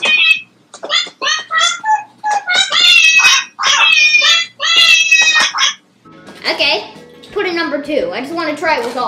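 Synthesized cat meow voices from a Nintendo Labo piano in a video game play a tune as a run of short, bright meows in quick succession, loud and close.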